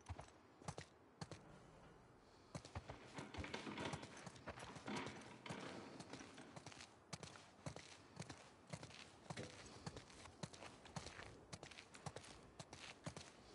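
Horse hooves clop in a steady walking rhythm in the video game The Last of Us Part II, with close, crisp hoof strikes and some rustle behind them.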